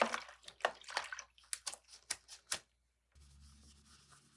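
Plastic Joy-Con pieces get stirred by hand in soapy water, a series of close, soft splashes and swishes in quick bursts, followed by a brief pause and a quieter, settling slosh.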